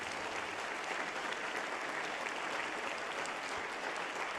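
A church congregation claps and cheers in sustained applause during a sermon, a dense, steady wash of hands that stays level from start to finish with no voice over it.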